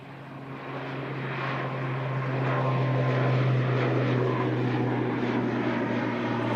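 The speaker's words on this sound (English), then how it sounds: "grab this ATR heading off up to Wellington" An ATR turboprop departing Christchurch Airport in fog, its propeller drone rising and holding loud and steady at a distance, a low throbbing hum under a broad rushing roar, with no talk.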